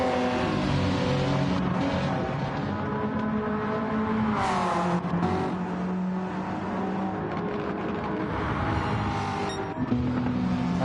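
Race cars, including a Porsche 911 GT3, Corvette, NSX, RX-7 and R34, roar around the Nurburgring in Gran Turismo 7, with engines droning continuously and steadily loud. No talk is heard.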